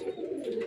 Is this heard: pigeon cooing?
yes